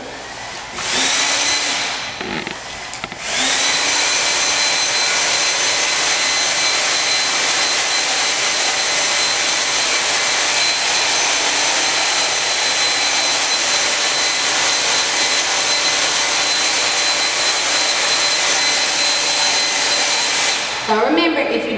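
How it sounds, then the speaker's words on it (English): A hair dryer blows steadily and loudly on a painting for most of the clip, a constant broadband whoosh after a brief start-up and pause. "So I'm going to blow dry it."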